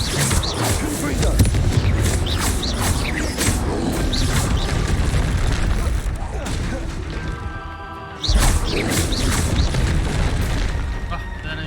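Confringo blasting spells in the Hogwarts Legacy video game, with repeated booms and crashing bursts in a dense, loud combat mix and a player shouting spell names over it.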